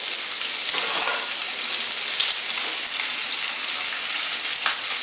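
Shrimp frying in a little oil in a pan, a loud, steady close-up sizzle with crackling pops throughout.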